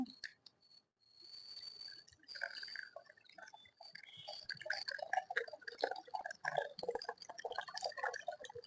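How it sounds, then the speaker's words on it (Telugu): Soaked tamarind juice is poured into a pot of tomato rasam, giving faint intermittent trickling and dripping with small clicks that get busier toward the end. "చింతపండు రసాన్ని తీసుకొని రసం దానిలో పోసేసుకుందాము"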